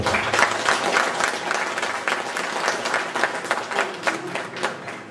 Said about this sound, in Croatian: nagradimo još jednim velikim aplauzom